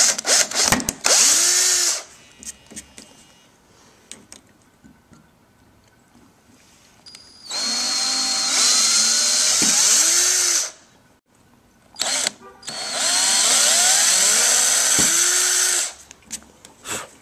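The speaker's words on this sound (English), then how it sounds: "Power drills can actually be kind of dangerous." Power drill boring holes in an engine piston, three long, loud, high-pitched whining runs with grinding bite into metal, separated by quiet pauses and brief trigger bursts.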